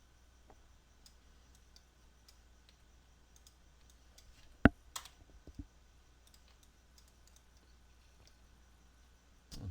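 Sparse computer mouse clicks while drawing with a CV curve tool in 3D rigging software, one sharp click standing out in a quiet room, with a few faint clicks scattered around it.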